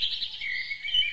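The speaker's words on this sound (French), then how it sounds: "on est en pleine nature, les oiseaux chantent" Birds sing outdoors in a nature reserve, a steady run of fairly near chirps and song phrases filling the clip alone, with no talk over it.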